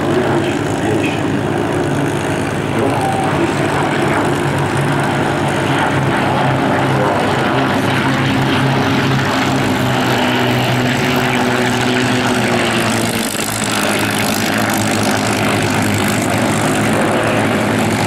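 Two blue-nosed P-51 Mustang propeller fighters flying past at the Flying Legends air show, a loud sustained piston-engine drone that swells steadily and shifts in tone as they pass, with faint crowd murmur beneath.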